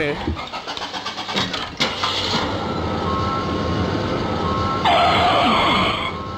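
A second-hand car starts up on a stage in a Tulu comedy show: a few cranking bursts turn into a steady engine idle, with a higher whine near the end and voices over it.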